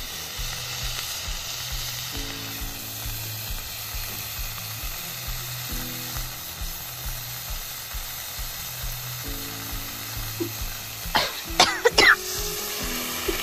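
Eggplant pieces with turmeric and salt frying in a pan over a wood fire, a steady soft sizzle with a low repeating hum behind it, then a brief cough and clatter near the end.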